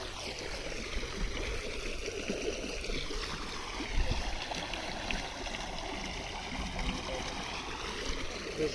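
Water from a motor-driven pump gushes into a farm field, a steady, close, broadband rushing and gurgling flow that stays constant throughout with no talk over it.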